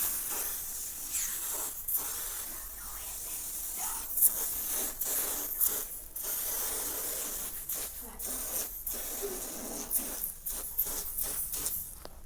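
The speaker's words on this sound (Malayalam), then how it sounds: "നമുക്ക് ജസ്റ്റ് ഒന്ന് സ്പ്രേ ചെയ്ത് നോക്കാം." Helmet cleaner foam sprays from a can in a string of short, sharp hissing bursts with brief pauses between them, close and fairly loud.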